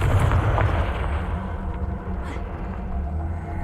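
A Confringo blasting spell explodes in Hogwarts Legacy, giving a loud, heavy boom at the start that fades into a rolling, lingering rumble with no voices.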